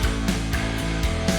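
Metal band mix with heavy guitars and drums, the guitars thinned by EQ set for blending with an orchestra, so they keep presence but lose body; a steady loud full-band passage with regular drum hits and no talking.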